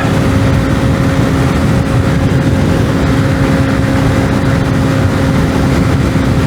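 A stock 125cc motorcycle runs flat out along a twisty road at close to 100 km/h, its engine holding a loud, steady drone against heavy wind roar with no letup.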